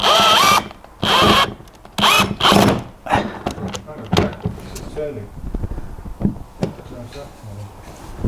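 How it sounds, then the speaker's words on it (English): A power drill whirs in several short bursts near the start, drilling holes in a 27 ft Nauticus boat, then quieter mechanical clatter and handling noises follow, with voices talking in between. "Can you just put the drill on it for a second, Phil?"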